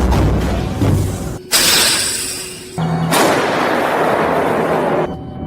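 American Paladin self-propelled howitzer firing during combat near Toretsk, Ukraine, with two heavy, loud broadband blasts in quick succession, each followed by a sustained rumbling roar.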